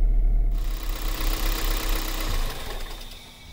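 A 1.8L 1ZZ-FE engine in a Toyota RAV4 idles steadily after the idle air control valve was cleaned, a close, even mechanical hum with faint ticking that runs alone throughout.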